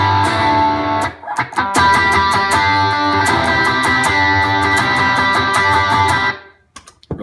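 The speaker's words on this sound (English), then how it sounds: "And then I have the Dunes by Earthquaker. It's like a Tube Screamer clone." Electric guitar through an Earthquaker Dunes Tube Screamer-style overdrive stacked with a Tumnus pedal, giving a sustained, saturated tone that rings loudly for about six seconds with repeated picked notes, then cuts off to near silence.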